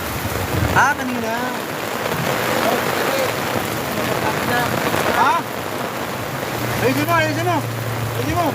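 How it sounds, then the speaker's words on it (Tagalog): Heavy storm rain pours steadily on a street during a typhoon, loud and continuous, with people shouting and talking over it and a brief low hum near the end. "Bagyo na!"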